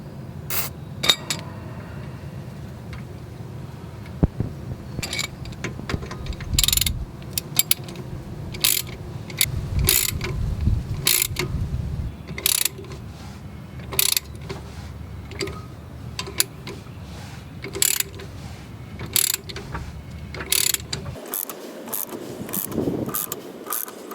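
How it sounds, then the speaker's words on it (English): A ratchet drives an 8mm bolt into the threaded hole of a Subaru Forester rear brake rotor to push the rotor off the hub. Rapid metallic clicks come in close, loud bursts over a low mechanical rumble, with no talking. "I happen to have an 8mm bolt here, and I'm going to try and get in here and push this rotor off."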